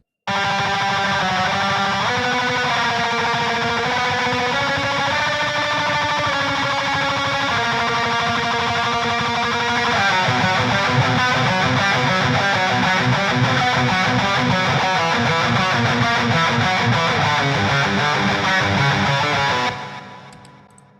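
A thick, sustained distorted electric guitar lead through an overdriven 5150 amp plays continuously, with dense saturated tone and shifting notes, cutting off abruptly at the end.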